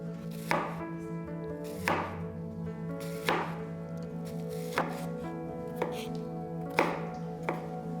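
Onion being chopped on a board for Grünkohl (kale), a steady series of firm knife thunks roughly every second, close and fairly quiet, no talk.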